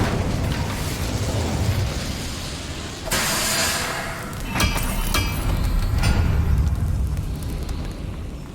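An Incendio fire spell in Hogwarts Legacy goes off as a burst of roaring flame, a sudden bright whoosh followed by crackling bursts over a dense, rumbling game background.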